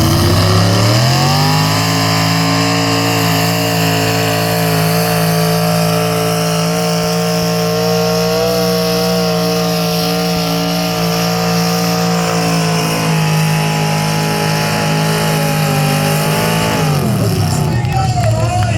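A truck roars at full throttle during a truck pull, its engine droning loud and steady for a long stretch before the pitch drops and then climbs again as it revs, while an announcer talks over it.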